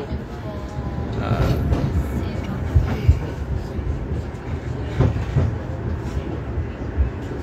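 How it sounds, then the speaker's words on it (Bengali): A tram rolls through a street in Italy, a low rumbling rattle with occasional rail clunks and thumps, heard fairly close while someone talks over it. "আমরা বাংলাদেশও এটার নাম কিতা, আর ইটালিতে হইল গিয়া এটা ট্রাম"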